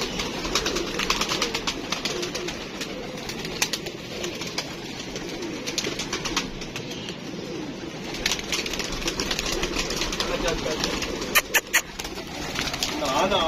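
A kept pair of pigeons cooing close by, soft rolling calls repeating steadily with occasional wing flaps and a few sharp clicks, people talking in the background.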